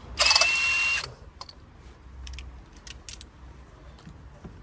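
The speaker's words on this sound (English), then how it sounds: "I am using impact gun for this job because I am familiar with this gun and I know torque of this gun" An impact gun rattles in a loud burst for about a second while removing spark plugs from a Vauxhall Zafira, then sporadic metallic clinks and ticks follow close by, with no talking.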